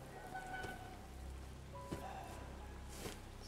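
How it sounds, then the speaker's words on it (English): Rain in the horror game Resident Evil 7, a faint, even patter of drops with a few soft thuds and clicks scattered through, quiet and continuous. "Is it snowing? Oh no,"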